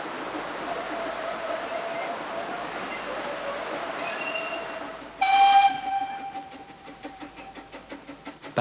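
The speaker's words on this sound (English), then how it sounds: "After running round its train, Peter Sam departs once more for Tawin." Talyllyn Railway steam locomotive Peter Sam departs: a low ambient rumble, then a loud shrill whistle blast, followed by rhythmic chuffing exhaust beats that carry on steadily as the train pulls away.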